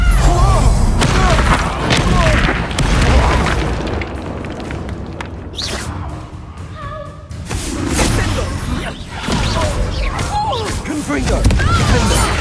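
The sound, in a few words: Confringo blast spell exploding in the video game Hogwarts Legacy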